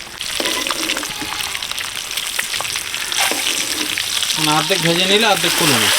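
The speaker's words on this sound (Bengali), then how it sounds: "বাকি ডিমগুলো ভেজে নিচ্ছি" Loud, steady sizzling of eggs frying in hot oil, with occasional utensil scrapes and a brief voice near the end.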